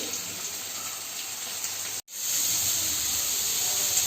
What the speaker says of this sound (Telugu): మంచి ఎర్ర కావాలన్నమాట మంచిగా గోలాలి ఆయిల్లో చాలా డీప్ ఫ్రై అవ్వాలి